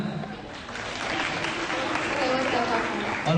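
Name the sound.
applause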